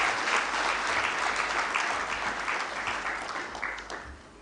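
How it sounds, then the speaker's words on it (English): Audience applause at a formal ratification ceremony of the Nairobi communique, a dense steady wash of clapping from many hands that fades slightly toward the end. "A round of applause."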